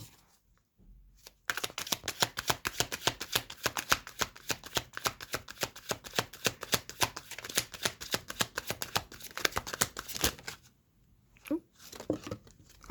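Tarot cards shuffle rapidly and loudly up close in a long, continuous riffling burst, followed by a few softer taps and card handling near the end.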